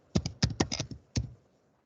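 A few quick keystrokes on a computer keyboard, close and soft, a short cluster of clicks and then one last tap before silence.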